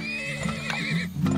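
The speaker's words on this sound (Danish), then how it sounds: "Vi vil gerne have 2 heste mere." A horse in the video game Turmoil gives a long, quavering neigh followed by a brief second whinny, with hoof clip-clops underneath, loud and near.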